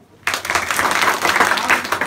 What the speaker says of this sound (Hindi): वेरी नाइस, ताली बजाओ।